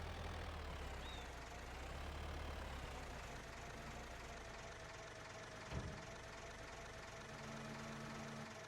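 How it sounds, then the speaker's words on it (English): A loud farm tractor engine runs steadily on a cold winter night, a constant low mechanical drone with a brief knock partway through and no talking. "I can't get close to this tractor because it's so loud."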